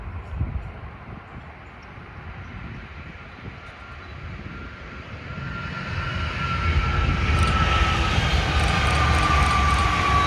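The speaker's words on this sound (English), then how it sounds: "makes its southbound journey as it flies out of the Orlando Airport station." A Brightline passenger train pulls out of the Orlando Airport station, its broadband rumble and rail noise swelling steadily louder as it accelerates away, with a faint high whine building near the end; no one speaks.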